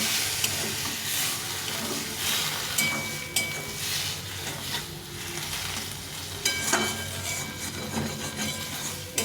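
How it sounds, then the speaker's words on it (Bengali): Chickpea masala with melted tomatoes sizzling in a pan as a little water goes in, loud frying hiss with repeated scraping stirs close by, no talk. "এখন একটু হালকা করে জল দিয়ে দেবো, এই সামান্য একটু জল দিয়ে দেবো"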